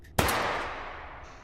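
A single sharp Five-seveN pistol shot rings out in the VR shooting game H3VR, a loud crack followed by a long decaying echo, with no talk.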